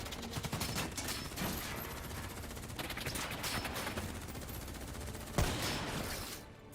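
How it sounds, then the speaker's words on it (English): Dense automatic gunfire from Call of Duty: Black Ops III crackles in overlapping bursts, with one heavier sharp shot near the end before the volley thins out. "Who's shooting?"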